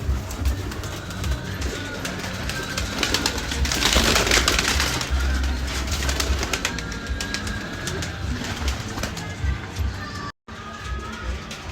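Domestic pigeons in a loft coo steadily, mixed with other bird calls and a faint murmur of background activity throughout, moderately close.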